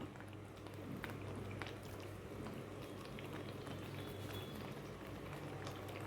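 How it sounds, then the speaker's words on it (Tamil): Liquid boils in a cooking pot for curry leaf rice, giving a continuous, even bubbling and hiss that stays faint and steady throughout. "இப்போ பாருங்கள் நல்லா கொதிச்சிட்ருக்கு"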